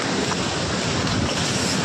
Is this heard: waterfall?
yes